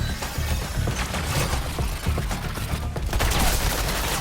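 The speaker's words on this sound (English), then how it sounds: "Now I'm letting the bullets fly" Dense, continuous gunfire from Suicide Squad: Kill The Justice League, rapid overlapping shots forming a loud, unbroken barrage with sharp cracks throughout.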